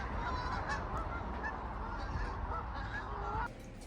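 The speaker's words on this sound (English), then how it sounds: "look at all the geese" Several geese honking together at a moderate distance, overlapping calls that continue for a few seconds, then drop away abruptly.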